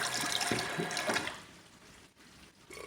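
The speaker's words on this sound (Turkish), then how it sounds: "Fırçamızı da bir yıkayalım şöyle." A shaving brush from a travel shaving set is rinsed under a running tap, a steady splashing water rush that is loudest at first, then tapers and thins toward the end.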